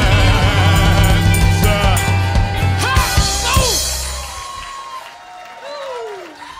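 A live concert audience erupts at the end of a song, loud cheering, whoops and rolling applause from a large crowd that swells and then thins out, with the music's last notes ringing under the noise.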